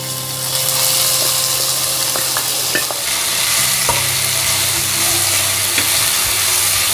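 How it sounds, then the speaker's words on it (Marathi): Finely chopped onion from one large onion sizzling and frying in hot oil for a spicy Ghati-style mutton curry, a steady close hiss with occasional stirring clinks and scrapes, no talk. "एक मोठ्या साईजचा कांदा एकदम बारीक कापलेला आहे, तो मी फोडणीला घालणार आहे"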